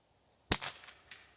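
.22 LR rifle fired at a paper target on a range: a single sharp, close crack followed by a short decaying echo, with a faint second tap about half a second later.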